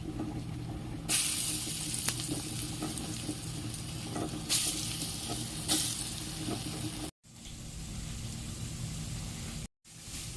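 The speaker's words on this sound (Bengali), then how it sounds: "গ্যাসটাকে একদম স্লো করে বড়াগুলোকে ভাজতে হবে" Steady hiss and crackle of masoor dal fritters frying in hot oil over low gas, close and continuous, with occasional louder bursts of spatter and two brief dropouts.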